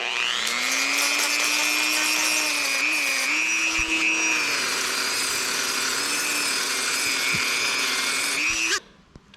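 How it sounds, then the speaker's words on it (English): A Dremel rotary tool cleans up a part during a Nissan Pathfinder WD21 tach and fuel gauge repair. It whines steadily and loudly, close up, for about nine seconds with slight pitch dips, then cuts off abruptly near the end. "I'm going to use a Dremel, and I'm just going to try to clean this up some"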